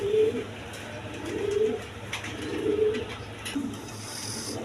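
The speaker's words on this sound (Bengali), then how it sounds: "এখানে এক পেয়ার গররা কবুতর আছে" Red Gorra pigeons, a pair, give soft, fairly faint coos in a few separate, spaced phrases over a low background hum, with no talking.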